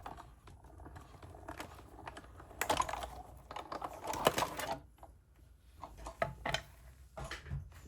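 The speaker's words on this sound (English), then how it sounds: "Bring in that die cut machine again, the Stampin'. There we go. And run that through." A Stampin' Up die cut machine feeds a card through with a steady run of clicking, cranking mechanical sounds, close and moderately loud with busier bursts in the middle, no voices.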